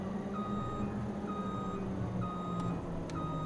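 An electric truck reversing in the Farming Simulator 25 video game, with four evenly spaced high electronic beeps over a soft steady vehicle hum and two faint clicks.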